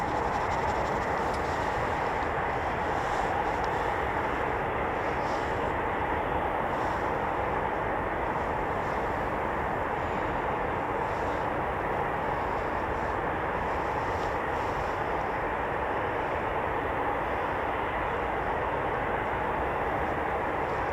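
A continuous low roar of Eurofighter Typhoon jet engines idling after start-up at RAF Coningsby stays even and distant throughout, with no talk.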